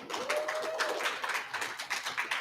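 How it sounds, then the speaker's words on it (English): At a media summit, an audience gives the guests another round of applause, a brief patter of clapping with uneven bursts over roughly two seconds and a faint tonal squeal briefly audible underneath. "let's give them a round of applause one more time"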